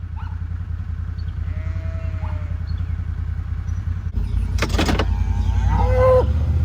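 Cattle on a farm, a low distant moo early on, then louder, closer bellowing and mooing near the end over steady outdoor background noise.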